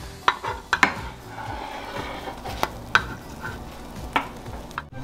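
Mini pancakes frying in a pan are turned with a spoon, giving sharp metallic clinks and scrapes at irregular intervals over a steady low sizzle, close up and without talk.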